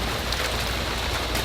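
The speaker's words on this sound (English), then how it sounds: "it is just pouring down rain" Heavy rain pours down during a thunderstorm, a dense, even patter and hiss filling the short stretch without a break or any voices.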